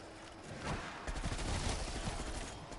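Dense gunfire from the video game Call of Duty Black Ops, a loud continuous burst of shots blending into one steady roar with no talk over it.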